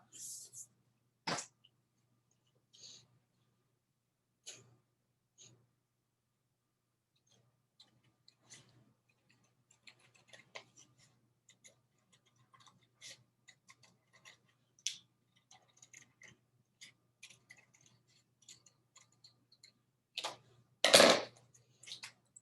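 Scissors snip a crescent moon shape out of paper in a quiet room: scattered close, crisp cuts and clicks come in irregular bursts, with one louder rustle near the end.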